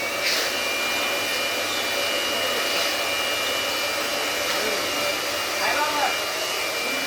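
A heavy puffed rice roasting machine runs with a steady, loud whooshing roar like a blower or dryer, continuous and close throughout with slight fluctuations and no talking.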